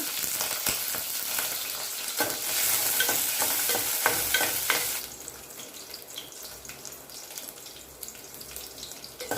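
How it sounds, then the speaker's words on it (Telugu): Loud oil sizzles steadily as green chillies are stirred with scraping strokes, then the sizzle drops to a quieter crackle partway through. "ఇప్పుడు ఇదే ఆయిల్లో పచ్చిమిర్చి వేసుకొని వేయించుకోవాలి"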